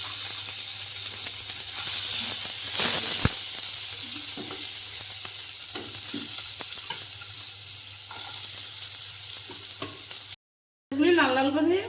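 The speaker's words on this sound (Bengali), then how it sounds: "কালো জিরে দিয়ে দিয়েছি। এবার পেঁয়াজ কুচি দিয়ে দিচ্ছি।" Chopped onions and black cumin sizzle in hot oil in a kadai for a spicy tangra fish curry, a steady close frying hiss with occasional stirring scrapes, ending in a brief silence and then a louder sizzle.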